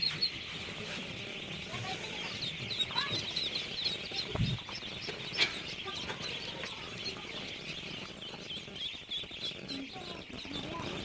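Chickens and newly hatched chicks clucking and peeping at a local poultry hatchery farm, a steady busy chorus with a brief flutter of wings midway and some voices talking in the background.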